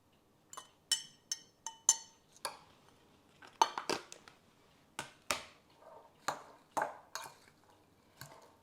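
Sliced romaine lettuce slivers tossed in a bowl, heard as a series of sharp clinks and light taps of utensils against the bowl, about a dozen spaced knocks, close and fairly quiet with no talk.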